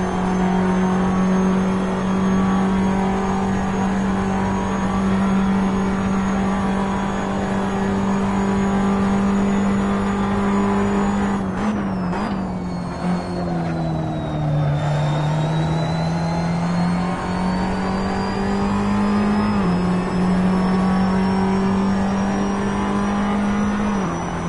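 A Ferrari 599XX EVO racing in Assetto Corsa holds a loud, steady, high engine howl that dips in pitch briefly midway as it slows, then climbs back to a sustained scream, with no voices.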